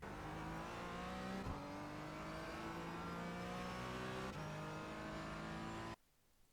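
A Porsche Cayman GT4 runs flat out on the VIR race track, its engine note loud and sustained with rising pitch sweeps through the gears, a brief shift around the middle, then cutting off abruptly near the end.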